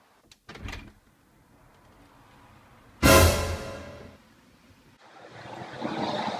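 A door knocks a few times, then opens with a loud burst of sound, followed by a softer rush of noise near the end.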